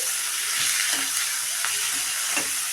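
Fenugreek seeds frying in hot oil for a tomato chutney, a continuous loud hiss with occasional faint stirring clicks.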